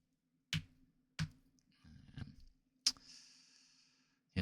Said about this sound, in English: that's me clicking the knuckles because I'm pissed off about this